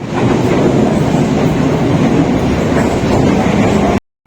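The Karachi Express passenger train running on rails between Lahore and Karachi, heard as a loud, continuous rumble of wheels and carriages with faint rhythmic clatter, steady throughout before cutting off abruptly at the end.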